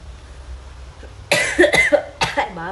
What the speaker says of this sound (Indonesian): Batuk mengganggu sekali.